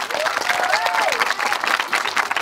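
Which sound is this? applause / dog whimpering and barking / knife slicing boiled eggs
applause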